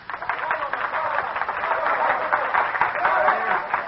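Audience applause in a large hall during a 1936 radio broadcast, a continuous wash of many hands clapping, heard through a narrow, muffled old recording with faint voices beneath.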